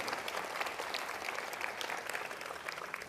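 Audience at an opera gala applauding auction bidders, a dense patter of many hands clapping at once, steady and lively for a few seconds with no voices over it.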